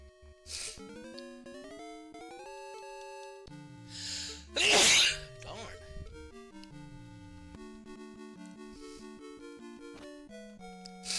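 A single loud sneeze bursts out over a steady background of synthesized music with sustained tones.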